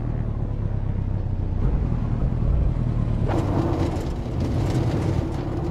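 A Mercedes driving in Assetto Corsa traffic mode gives a steady low engine rumble throughout, and around the midpoint a rougher burst of broadband road or tyre noise rises over it.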